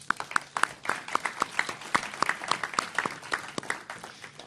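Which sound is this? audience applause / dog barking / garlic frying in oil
audience applause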